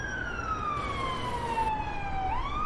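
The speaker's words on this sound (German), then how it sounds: "Mach die Sirene an." A police siren wails continuously in a slow, falling and rising sweep, moderately loud over steady road noise.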